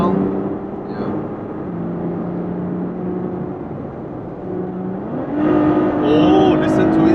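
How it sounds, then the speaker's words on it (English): A Ferrari GTC4 Lusso's engine hums at a steady cruise, then rises into a louder rev near the end, heard from inside the car with a voice speaking over it. "Oh, listen to it sing. Yeah, that's how a Ferrari sounds like."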